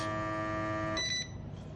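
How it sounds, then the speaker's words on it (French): A vacuum sealer's end-of-sealing signal: a single sustained electronic beep for about a second, then a short higher chirp before cutting off to quiet hum. "le bip de fin, cela indique que mon scellage a bien été fait"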